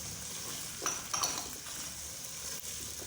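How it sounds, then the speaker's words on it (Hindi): Peas and chopped mixed vegetables frying in a pot for a simple pulao, with a steady soft sizzle and a few stirring scrapes and light clinks from a spoon against the pot. No voices. "और इसके बाद हम इसमें डालेंगे मटर, और इनको भून लेंगे।"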